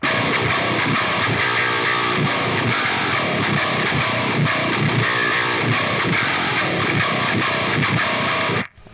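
Heavily distorted metal/djent electric guitar played through an HX Stomp with a pitch shift effect, plus delay and reverb, chugging loudly and continuously before cutting off abruptly at the end.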